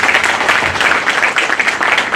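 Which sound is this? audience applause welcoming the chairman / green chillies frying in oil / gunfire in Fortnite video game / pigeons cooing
audience applause welcoming the chairman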